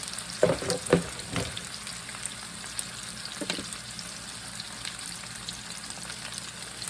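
Swedish meatballs fry steadily in a pan, a soft continuous sizzle with a few clattering knocks of stirring near the start, no talking.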